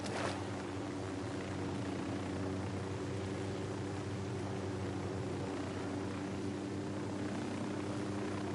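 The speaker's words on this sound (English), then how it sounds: "Helicopter, get down." A helicopter in the Ghost Recon Wildlands video game drones steadily and faintly throughout, a constant rotor hum with no voices over it.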